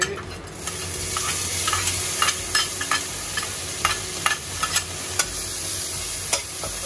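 Dried scallops and minced garlic stir-fried in a wok over low heat: continuous sizzle with repeated sharp spatula scrapes and taps in an irregular rhythm, close and steady, no voices.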